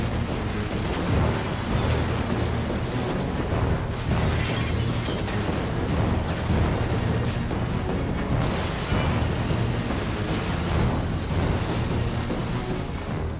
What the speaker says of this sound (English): I'd say we've probably blown up 8 or 10 vehicles, 2 or 3 buildings, filled a lot of things full of bullet holes.